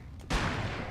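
Gunshot from a GameCube video game, a single sharp blast after a short lull, followed by a sustained loud burst of continuing gunfire.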